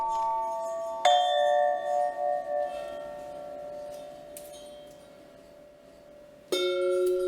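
A squashed tubular chime is struck twice, each strike ringing out two separate sustained tones that slowly decay, clear and close with no talking.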